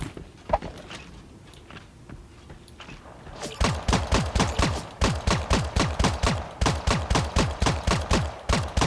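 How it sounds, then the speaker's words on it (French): A few scattered shots, then a long run of rapid, evenly spaced gunshots firing in sustained bursts, loud and close, in the video game Creative Destruction. "Il y a eu des coups de feu dans le coin."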